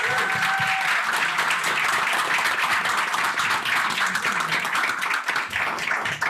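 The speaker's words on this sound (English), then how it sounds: "Let's give them a round of applause." Audience applause at a community arts organisation gathering, a dense, sustained wash of many hands clapping that fills the whole stretch at steady loudness with no talk over it.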